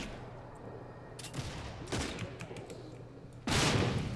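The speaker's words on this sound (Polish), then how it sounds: "Ładny wybuch." Scattered gunfire crackles in the video game Redfall, then a loud, sudden explosion bursts at the end and lingers as a rumbling roar.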